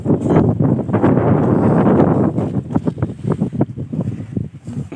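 A boat engine coupled to its propeller shaft runs loud and close, a dense steady mechanical roar for about two seconds, then settling into an uneven pulsing chug with wind buffeting the microphone.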